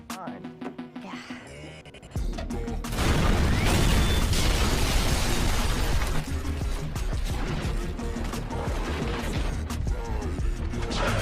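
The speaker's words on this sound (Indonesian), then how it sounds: "ledakan itu terjadi karena adanya kebocoran gas" A loud, sudden gas-leak explosion at a house bursts in after a couple of seconds of quieter sound and becomes a sustained roar of crashing debris, with voices underneath, in a film.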